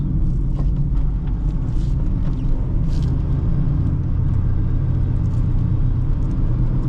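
2008 Honda Fit engine pulling at light throttle while driving, a steady low droning rumble with road noise heard from inside the cabin, continuous and fairly loud throughout.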